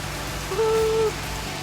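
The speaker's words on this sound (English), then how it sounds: "Walking in the rain." Rain falls steadily outdoors, a constant hiss and patter with a brief tonal squeak partway through.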